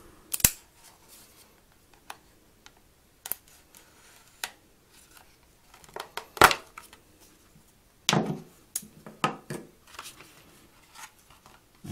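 Packaging of a Spigen GlastR Nano Slim glass screen protector for the HTC One M8 being opened: scattered close clicks, snips and crinkly rustles, sparse at first, then busier handling toward the end.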